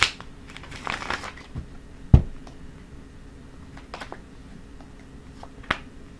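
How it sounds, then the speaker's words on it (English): Hermetic Tarot cards and playing cards are laid out on a table, giving soft slaps and papery flicks, a few sharper snaps among them, scattered and quiet with long pauses and no speech. "I'm going to take these Hermetic Tarot, and I'm going to quickly lay 9 cards"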